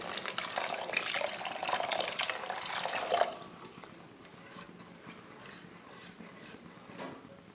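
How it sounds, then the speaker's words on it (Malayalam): Water pours into egg curry masala in a pan, a close gushing splash for about three seconds that then stops. Quieter kitchen sounds follow. "ഇനി 1 കപ്പ് വെള്ളം പാർന്നു കൊടുക്കാം അതിലേക്ക്."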